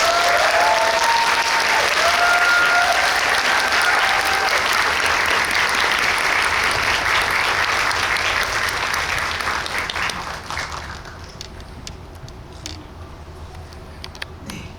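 A theater audience at a film screening talk event gives loud, sustained applause to welcome the guests. The clapping fades noticeably after about ten seconds and continues more quietly, with a brief musical tone early on.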